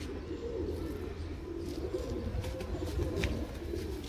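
Pigeons coo steadily in a loft of old birds, a low continuous burbling murmur with faint chirps and rustling above it, fairly quiet and close.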